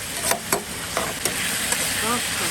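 Vegetables stir-fried in a hot wok, a loud close sizzle with a few sharp scraping clacks of the spatula against the pan, and a voice briefly audible underneath.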